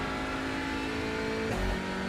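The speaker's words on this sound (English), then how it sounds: "love the sound of the upshifts" Race car engine in the sim racing game iRacing, a steady high-pitched buzzing drone that changes abruptly near the end as if shifting up, close and loud without speech.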